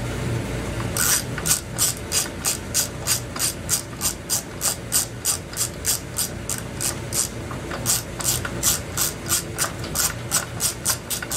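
Ratchet wrench with a 3/4 socket working a spark plug out of a Homelite Trim N' Edge string trimmer, a steady run of crisp, loud close-up clicks in regular rhythmic strokes with a brief pause midway.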